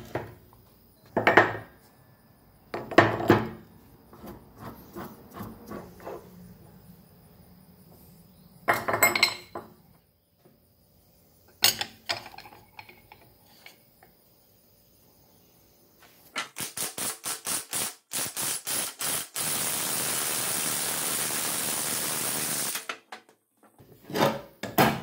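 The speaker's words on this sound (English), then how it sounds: "pulling the bearings off the pinion and the carrier so I can replace those. I'm just using this bearing removal tool." A bearing removal tool works bearings off a pinion and differential carrier on an 8.8 axle, giving scattered metallic clanks and knocks, then a long burst of harsh grinding and rattling near the end.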